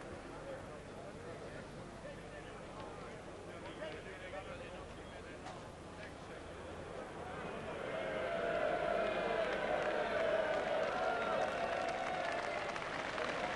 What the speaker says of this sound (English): Terrific cheer from the crowd as Duncan bangs into the back of the Eaton ball